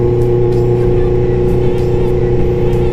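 A Yamaha R1 sport motorcycle idles and revs in a steady, loud drone with a strong low rumble and a few faint rhythmic pulses, the engine note holding close and unbroken throughout.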